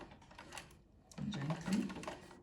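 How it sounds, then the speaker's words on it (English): Sewing machine making a reinforcement stitch beside an invisible zipper, fitted with a zipper foot, giving quiet bursts of rapid mechanical stitching with a brief pause between them. "I am now going to remove this pin to allow me reinforce, to make a reinforcement stitch here."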